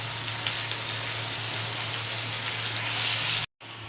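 Soaked rice stirred and fried in a pan makes a steady, close hiss of sizzling with a faint low hum beneath, continuous until a brief cut near the end.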